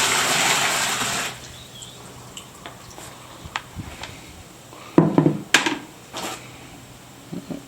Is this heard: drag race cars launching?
no